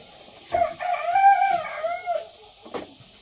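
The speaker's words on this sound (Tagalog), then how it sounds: "yung manok kakak ng kakak" A chicken cackles loudly nearby in a drawn-out, rising and falling call, followed by a short squawk, with no other sounds around it.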